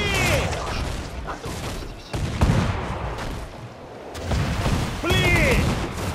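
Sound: gunfire in video game Assassin's Creed IV Black Flag

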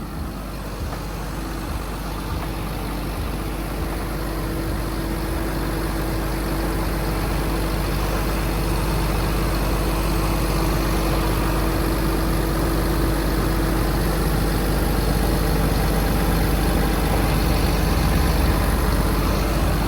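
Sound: excavator diesel engine idling

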